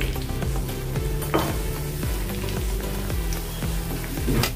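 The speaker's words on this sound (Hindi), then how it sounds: "कम गैस पर ही इसको तलना है।" Mix dal vada fritters frying in oil over a low flame: a continuous soft crackling sizzle, nearby and steady, with a few brief clinks of a utensil and a low background hum, no voices.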